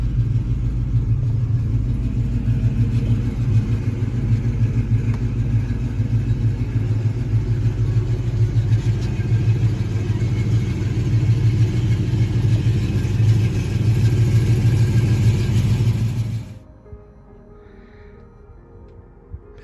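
A 1970 Dodge Charger idling after a cold start: a loud, steady, low rumbling engine burble with a pulsing rhythm, running unchanged for about sixteen seconds before cutting out abruptly to near silence.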